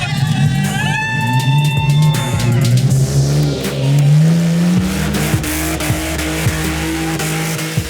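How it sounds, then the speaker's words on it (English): A modified BMW doing a burnout on a Libyan street, its tires spinning until they burst: a close, loud engine revving hard under a long, shrieking tire squeal with gritty scraping bursts. "16-year-old Mukhtar Yahya took his brother's modified BMW out tonight to see how quickly he could make the tires burst."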